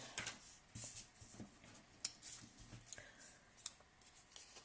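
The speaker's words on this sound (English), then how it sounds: "So let me just keep going with the fussy cutting now" Scissors fussy cutting paper for a handmade card, soft quiet snips and rustles in an irregular rhythm, close and faint.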